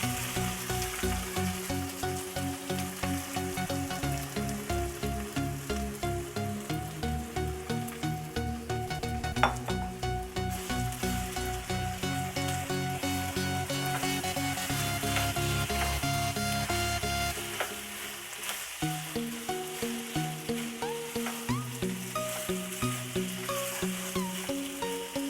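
Sliced onions frying in oil in a pan, browning for mutton boti kebab, give a steady, continuous sizzle throughout, with music playing prominently over it.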